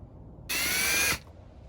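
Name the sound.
step drill bit drilling for Can Am Ryker fog light install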